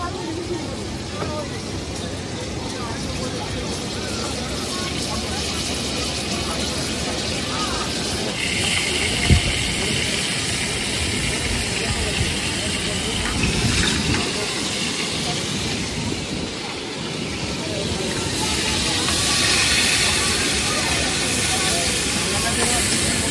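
Seafood cooking with ground spices at a roadside beach stall at Digha, a steady hissing, steam-like sizzle running throughout under crowd noise and nearby talk.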